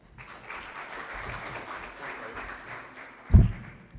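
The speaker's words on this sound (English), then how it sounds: "Give him a round of applause." Conference audience gives a round of applause, a soft, even wash of many hands clapping at a distance, ending with a brief close thump.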